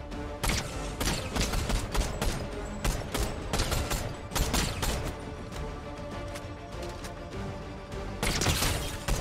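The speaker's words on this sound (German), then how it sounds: "Oh, der schießt auf den." Rapid volleys of gunfire from the video game Fortnite crackle in dense, overlapping bursts, loud and nearly continuous, with a few short lulls between the clusters of shots.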